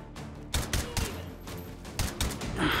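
Gunfire in the VR shooter Hot Dogs, Horseshoes & Hand Grenades: several quick bursts of shots crack at irregular intervals, fairly faint and somewhat distant, over a low background rumble.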